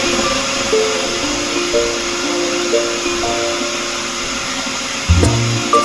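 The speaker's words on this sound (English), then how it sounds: "I put my finishing dryer blowing over him, so with an extra heat" A finishing dryer blows steadily over a Bichon x Westie cross during grooming, a continuous loud whooshing roar with a brief bump near the end.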